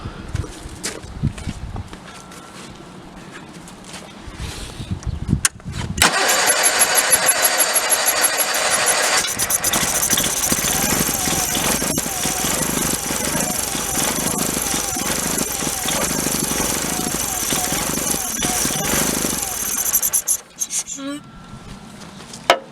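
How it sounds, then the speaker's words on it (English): A Case Ingersoll garden tractor's Onan B48M twin-cylinder engine cranks on starting fluid without firing, a loud, steady, rapidly pulsing churn lasting about fourteen seconds, with quieter voice and handling sounds before and after. "while I'm cranking and while I'm using the starting fluid, then that carburetor isn't pulling fuel"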